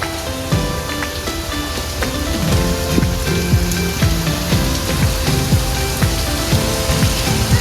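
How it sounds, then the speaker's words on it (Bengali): Heavy rain pouring at Kuakata, a dense, loud, continuous patter with sharp drips and splashes striking nearby surfaces throughout, with no voices. "কি পরিমাণ বৃষ্টি, সকল প্ল্যান ক্যান্সেল হয়ে যাবে যা মনে হইতেছে"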